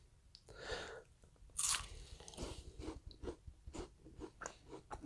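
Crisp bites and crunching chews on a Mexican chocolate wafer bar with a vanilla cream center, close to the mic: one loud snap followed by a run of brittle, irregular chewing crackles in a quiet room.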